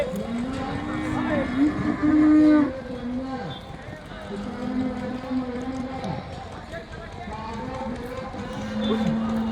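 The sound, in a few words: cattle mooing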